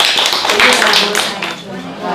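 An audience at an event attended by a provincial governor's wife applauds, dense hand clapping swelling loud and near, with a voice speaking over the start.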